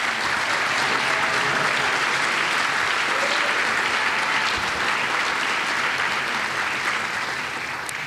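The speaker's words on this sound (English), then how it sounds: "Will anyone who served as a transfer advising mentor please stand so we can give you a round of applause?" Sustained, dense audience applause at a business school undergraduate award ceremony, a loud, even wash of clapping from a large crowd throughout, tapering slightly at the very end.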